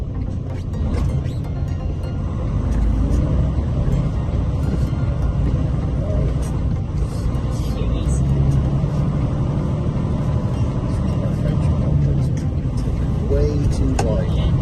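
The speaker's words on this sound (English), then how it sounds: "look at all these trucks." Trucks drive past in traffic on Nashville Road, a loud continuous engine rumble and road roar heard from inside a moving vehicle, with a person talking over the noise.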